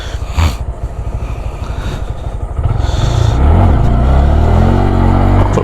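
Honda Grom motorcycle with stock exhaust riding in first gear during a training drill, engine putting along steadily and then revving up louder, close by with no talking.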